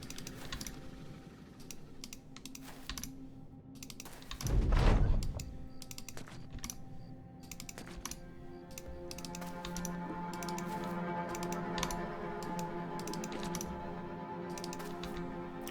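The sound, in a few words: mouse clicking on map hexes in Oathtakers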